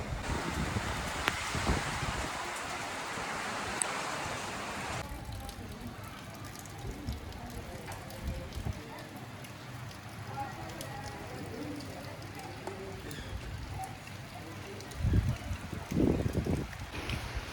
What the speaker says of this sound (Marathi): पाऊस बघा कसला जोरात चालू आहे